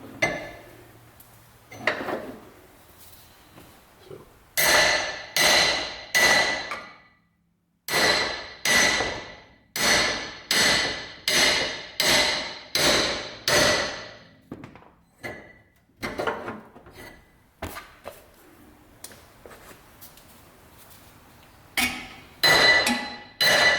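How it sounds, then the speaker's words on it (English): A hammer strikes metal repeatedly in irregular bursts while torsion bars are installed on a Mitsubishi Delica Space Gear, sharp ringing metallic blows with brief pauses between groups, loud and close. "I'm back with a hammer."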